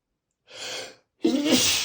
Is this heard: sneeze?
yes